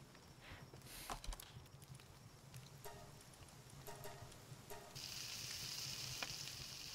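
Meat frying over a fire in the Palworld video game, with a soft steady sizzle under scattered clicks and taps, then a brighter hiss rising near the end.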